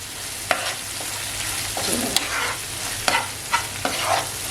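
Squid masala tawa fry sizzling in oil on a hot griddle: a continuous close hiss broken by several sharp scrapes and clacks of a spatula stirring, with no speech.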